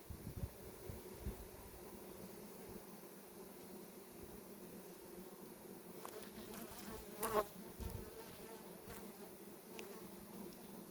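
Dense, steady buzzing of many honeybees close by, with a few brief knocks and rustles partway through.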